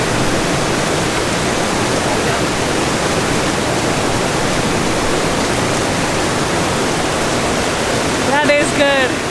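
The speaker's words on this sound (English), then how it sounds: "I think this is just a random bonus waterfall" A waterfall along a hiking trail in Glacier National Park roars with a dense, unbroken rush of falling water close by, and a brief voice surfaces just at the end.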